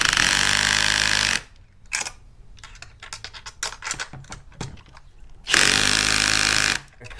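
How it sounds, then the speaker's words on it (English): Power drill boring holes in a bass boat mounting bracket, two loud sustained drilling bursts at start and end with clicks and handling clatter between, close up and without talk. "So we're gonna drill holes right in this guy very gently"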